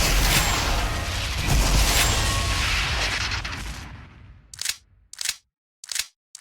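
A video game weapon from an Unreal Engine 4 multiplayer first-person-shooter template roars through a long, loud burst that fades out. Four short, crisp mechanical clicks of a reload follow, evenly spaced, with no voices.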